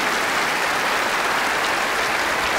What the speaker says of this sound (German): dafür können Sie klatschen